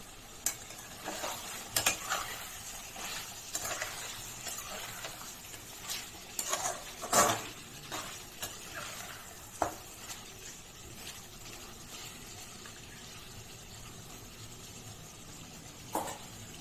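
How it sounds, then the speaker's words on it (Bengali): Mutton kosa in a kadai is stirred with a ladle, producing intermittent scraping and clanking strokes over a soft sizzle, quiet overall, with a few sharper knocks and no talking. "কড়াইয়ের ঢাকাটা সরিয়ে একটু নাড়াচাড়া করে দেব।"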